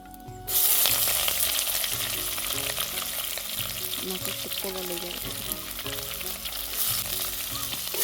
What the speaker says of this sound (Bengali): পেঁয়াজটা দিয়ে এবার পেঁয়াজটা ভাজা ভাজা করে নেব।